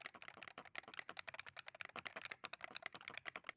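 Rapid, dense typing on a budget $20 Hall Effect keyboard, a steady stream of close, crisp key clacks with a quiet overall level and no voices.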